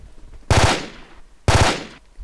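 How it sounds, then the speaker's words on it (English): A custom-made gunshot sound effect sample fires twice, about a second apart. Each shot is a loud, sharp, close blast with a short rattling onset and a decaying tail. "I just created a sample and it sounds pretty good"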